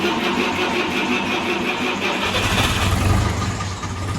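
A small vintage Ferguson tractor engine cranks and fires up, settling into a steady, close, rumbling run with a brief rise in revs toward the end.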